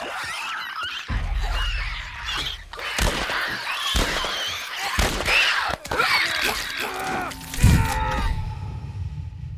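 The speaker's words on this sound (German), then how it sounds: "Die Viecher meinte ich ja, das sind Klicker." Clicker infected creatures in The Last of Us Part 1 let out loud bursts of squeals, clicks and groans, mixed with thuds and bangs in a cluttered, shifting game soundscape.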